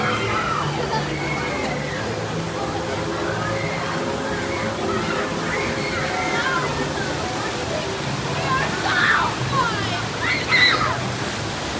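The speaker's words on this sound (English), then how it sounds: "probably from that waterfall over there" A constant roar of falling, splashing water from a waterfall at the Dollywood theme park fills the background while people talk over it.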